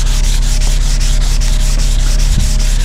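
Steady, continuous rasping of a sanding block worked back and forth over car paint on an SRT, close and loud, with a regular stroking rhythm.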